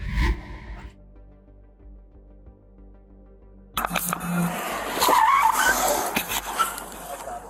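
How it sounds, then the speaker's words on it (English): Car speeding out of a parking lot during a police stop, after a quiet stretch a sudden burst of engine revving and tire squeal nearby, with shouting and commotion over it. "Instead of complying, Max drove away from the parking lot."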